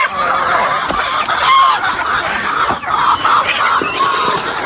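Farm fowl, chickens with geese nearby, make a steady close chorus of clucks and honking calls, loud and continuous with scattered sharper squawks.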